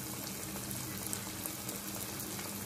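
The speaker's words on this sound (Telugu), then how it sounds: "ఆయిల్ వేడెక్కాక కవర్ మీద గాని ఆకు మీద గాని ఒత్తుకున్నటువంటి వడల్ని మనం నూనెలో వేసుకోవడమండి జాగ్రత్తగా" Corn masala vadas sizzle in hot oil, a dense, steady hiss and crackle of frying that holds constant throughout, close and fairly loud with no talk.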